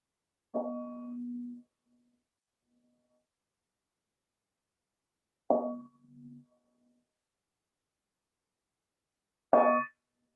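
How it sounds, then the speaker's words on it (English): A meditation bell struck three times with long pauses between, each ring a clear, resonant tone that decays softly into silence, close and fairly quiet. "And I'll ring the bell"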